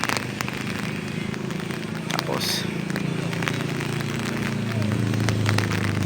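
Heavy rain falling at an outdoor sports complex, a dense steady patter and hiss close by, with people talking and faint background voices over it.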